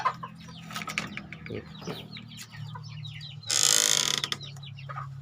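Free-range village chickens, including young birds, cluck and chirp in short bursts in a farmyard coop, with a brief louder rustling flurry partway through; no talking.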